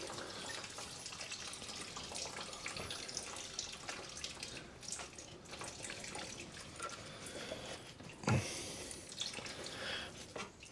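Coolant water trickles and drips from the thermostat housing of a 2007 Ford Fiesta 1.6 petrol during replacement, a faint continuous splashing with one sharper knock near the end.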